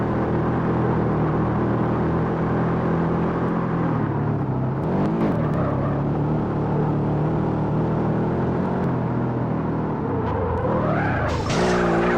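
A car in the PlayStation 2 game Street Racing Syndicate skids under the handbrake, with a sustained engine drone and tire noise running throughout and a sharper screech and rev building near the end.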